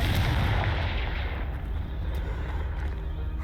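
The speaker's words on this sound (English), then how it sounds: "Confringo." A Confringo fire-blast spell in Hogwarts Legacy, blasting a pile that blocks a stairwell: a loud booming explosion with a deep rumble that fades slowly into a rough, roaring tail.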